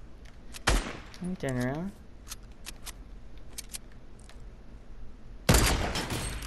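Gunfire in the video game Fortnite, with two loud, sharp broadband bursts, one early and one near the end, separated by quieter game sounds and someone talking briefly in between.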